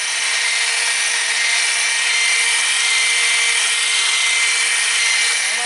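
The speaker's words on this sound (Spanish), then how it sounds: "después mixeo todo y les muestro." An electric mixer beats loaf batter with honey and stevia, making a steady high-pitched motor whine that stays loud and unbroken throughout, with nobody speaking.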